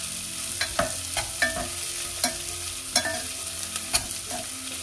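Onions sizzle in oil in a pan for kuska biryani, a steady close frying hiss broken by repeated scraping clicks of a spoon stirring them every second or so.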